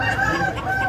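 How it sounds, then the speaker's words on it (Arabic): Spanish breed chickens cluck and call close by at an animal market in a short burst, a few hens vocalizing together over a low murmur of background noise. "دجاج الاسبان"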